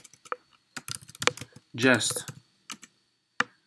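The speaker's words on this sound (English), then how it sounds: "Hopefully you can see what I'm typing here." Keys on a computer keyboard are tapped in scattered, close clicks and short bursts of typing while a person speaks briefly in between.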